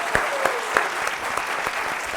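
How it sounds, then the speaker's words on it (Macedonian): Studio audience applauding on a Macedonian talk show as a guest is welcomed, steady clapping throughout the short stretch with a few sharper claps standing out. "аплауз за Пеперминт!"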